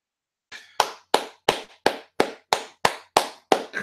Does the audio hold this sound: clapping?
yes